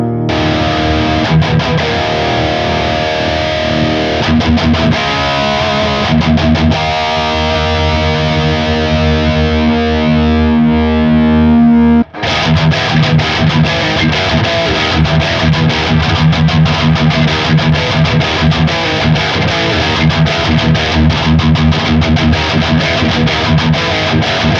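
Electric guitar run through a Nux Trident with the amp's clean tone blended in, playing continuously with dense chords and effects, a brief dropout near the middle before the playing resumes, loud with no talking.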